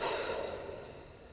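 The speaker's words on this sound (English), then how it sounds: "Big breath in and a big breath out." One long, audible exhale through the mouth during a yoga twist stretch, strongest at the start and trailing off gradually over about a second.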